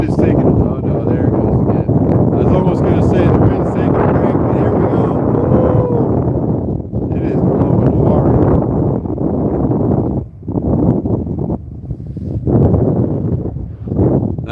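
Heavy wind buffets an outdoor microphone on a cold day of fishing, a loud continuous rumbling roar with brief lulls, while someone talks over it.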